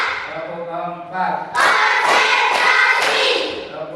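A group of children claps in rhythm during a classroom clap routine, a few sharp claps landing in a regular beat after a stretch of voices, with crowd chanting over the claps.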